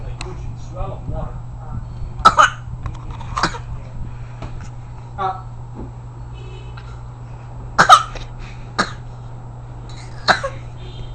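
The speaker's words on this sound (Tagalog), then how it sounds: "Sabihan mo si Papa may batang inuubo dito oh." A child coughs in short bursts several times at close range over a steady low hum, with faint background talk between the coughs.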